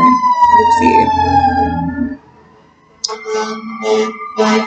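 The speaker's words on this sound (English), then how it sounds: "Sorry, you guys, for that. For that siren." Passing emergency vehicle siren outside, loud, with a long gliding wail that fades after about two seconds. A voice speaks indoors after a short pause.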